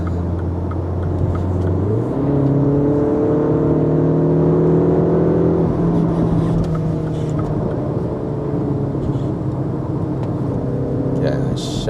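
A MINI Countryman JCW hums along on the road, its engine note climbing and then dropping back as the gears change, a steady near cabin drone with tyre rumble beneath.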